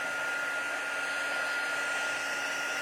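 A heat tool blows a continuous, steady whooshing hum while melting Versamark ink with soft pastels, close and unbroken throughout, with no talking.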